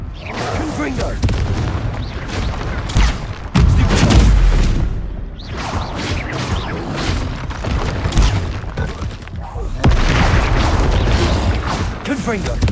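Confringo explosion spells in Hogwarts Legacy combat, with heavy booms repeated every few seconds amid crashing debris and battle noise, while a voice shouts spell names.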